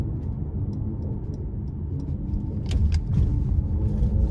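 A 2023 Mercedes-Benz C43 AMG Coupe under throttle on a test drive, heard from inside the cabin as a steady deep rumble that swells slightly toward the end.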